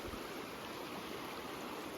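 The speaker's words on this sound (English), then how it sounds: "And here's the river." A river running beside a mountain hiking trail on a North Fork pass trek, heard as a steady, broadband rush of flowing water that fills the whole clip without pause or voices.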